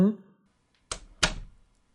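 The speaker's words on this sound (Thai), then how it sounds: "ปิดประตูตามหลัง" A door closes behind someone in a home setting: two quick, close thuds about a third of a second apart, after a brief voice at the start, then quiet.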